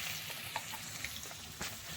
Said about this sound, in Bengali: আর হলুদ গুঁড়ো দিয়ে কচু আলুটাকে ভালো করে ভেজে নেব।